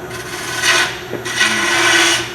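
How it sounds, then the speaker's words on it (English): A bowl gouge cutting wood on a lathe, giving two loud, close scraping passes with a steady motor hum underneath. "Now we can do things like beads and coves with the bowl gouge, depending on how deep you want to go."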